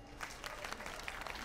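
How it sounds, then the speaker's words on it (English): Brief applause from a panel discussion audience welcoming a cookbook author onstage; a short burst of many hands clapping, moderately close and steady, with no voices over it. "Let's welcome him with an applause"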